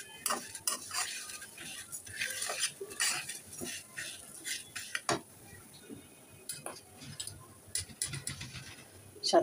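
Flattened rice (chira) frying with salt in a pan is stirred briskly, producing irregular metallic scrapes and clinks of a spoon against the pan over a soft, faint sizzle.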